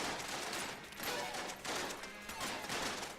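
Dense, continuous gunfire from shotgun-shell weapons in the video game Enter the Gungeon, a constant barrage of overlapping shots with no gaps and no talking.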